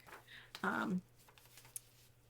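A decorative paper trimmer blade slides through a strip of paper in one quick, scraping pass, close and brief, amid faint rustling handling noises.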